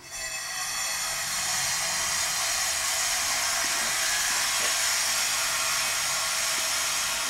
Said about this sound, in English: Grinding cement with a saw or something.